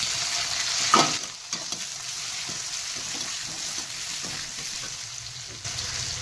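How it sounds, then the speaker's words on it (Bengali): Onion frying in mustard oil in a pan for a chela fish curry, a steady close sizzle with occasional stirring scrapes and a brief louder crackle near the start, no voices. "আর আমি এই পেঁয়াজটা দিয়ে দিই।"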